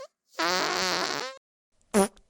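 A cartoonish fart sound effect, one long buzzy, rippling blast of about a second, then a short second burst after a pause, loud and alone.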